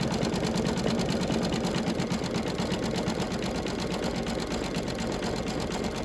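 An embroidery machine stitches a spring design with a continuous, steady, rapid mechanical whir and rhythmic needle chatter, unchanging and close throughout.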